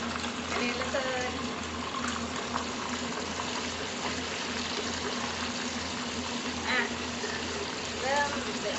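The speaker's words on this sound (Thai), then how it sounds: "เริ่มเดือดสวยงาม" Chicken wings cook in bubbling liquid in a pan for fish-sauce fried wings, a steady close simmering hiss with faint pops and occasional spatter, heard alone without talk.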